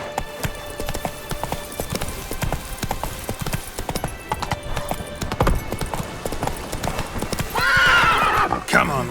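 Roach, a horse in the Witcher 3 video game, gallops with rapid, rhythmic hoof clops that continue throughout, then gives a loud whinny near the end.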